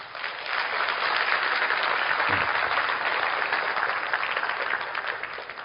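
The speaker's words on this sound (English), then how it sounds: "Give Riway a big round of applause." Steady, full applause from a large audience at a leadership training conference in Indonesia, sustained clapping that swells and slowly tapers over several seconds.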